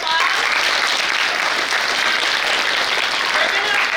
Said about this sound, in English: can we give somebody a round of applause